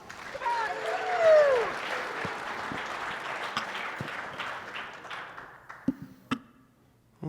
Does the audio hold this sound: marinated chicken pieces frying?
no